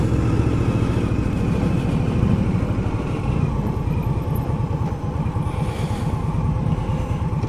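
An Indian Scout V-twin motorcycle engine runs steadily with a deep, loud, continuous throbbing rumble, close by, with some wind noise over the microphone.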